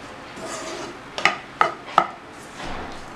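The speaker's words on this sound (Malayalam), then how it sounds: "ഇനി നന്നായിട്ട് അങ്ങ് ഇളക്കി കൊടുക്കാം" Spoon stirring a coconut mixture in a pan over a low flame, three sharp scraping knocks in a row against a soft steady background, close and moderately loud.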